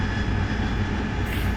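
An AV-8B Harrier jet in the DCS flight simulator roars steadily through a short takeoff, with dense broadband engine noise holding constant and loud and no voices.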